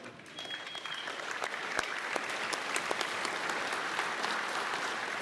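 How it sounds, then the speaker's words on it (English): Audience applause at a university graduation ceremony honoring a group of drummers, a steady, dense clapping that fills the whole stretch at even strength with no talking over it. "Round of applause for our Denny Sutini drummers."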